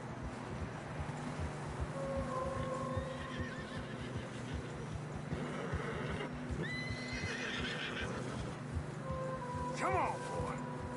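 Horses whinny and neigh several times over a steady hoofbeat rumble through fresh snow in Red Dead Redemption 2, with a voice briefly talking; sounds like a game soundtrack.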